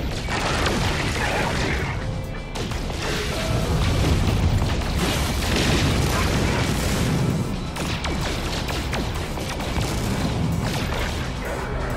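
Rapid weapon fire from a spaceship in a space dogfight in No Man's Sky on PS4: dense, continuous bursts of booming, crackling shots and impacts that fill the scene loudly with no letup, layered over a rumbling background.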